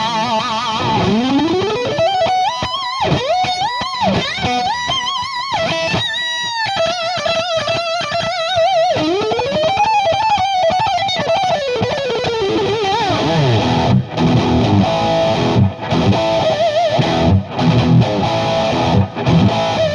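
An electric guitar runs through a Boss SD-1 Super Overdrive pedal boosted by a Hyperfuzz, with a noise gate in the chain. It plays loud, distorted sustained notes and bends, then choppier gated chords with brief silent gaps and some amp hiss.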